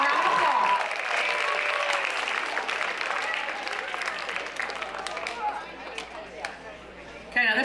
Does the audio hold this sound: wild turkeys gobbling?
no